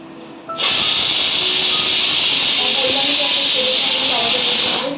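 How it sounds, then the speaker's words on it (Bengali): A kitchen mixer grinder starts abruptly and runs loud and steady, grinding peeled ginger and garlic into a spice paste with a harsh, continuous whirring roar until it cuts off at the end. "এখনই আমার মশলাগুলো পেস্ট করবো তার জন্য আদা রসুনগুলো তো ছাড়িয়ে রেখেছিলাম সেগুলোর মধ্যে মিক্সি ইয়ের মধ্যে দিয়ে নিচ্ছি"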